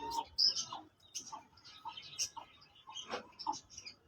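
Pigeons at a rooftop loft in Rawalpindi give soft, scattered coos and chirps with light rustling, fairly faint and close, while other birds call in the background.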